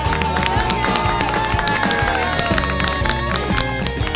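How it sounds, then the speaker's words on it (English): A game show studio audience applauds and cheers as a contestant is called up, steady loud clapping filling the room with a crowd murmur and music mixed in. "Everyone clap for Matt."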